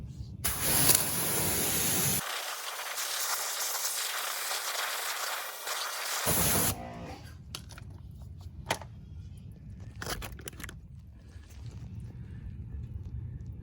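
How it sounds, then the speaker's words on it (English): Water spray rinsing a car wheel during wheel decontamination, washing away soap that has bled purple: a loud, steady hiss for about six seconds, then quieter splashing and dripping with scattered clinks. "Okay, so now we're going to rinse the wheel clean."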